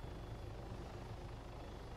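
Helicopter flying at altitude in the military game ARMA 3, a steady low rotor drone and engine whine holding constant and close throughout, with no talking.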